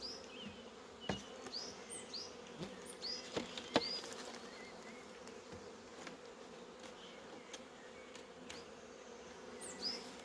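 Honeybees hum steadily around hives in an apiary, a continuous close insect drone with individual bees zipping past now and then, and no talking.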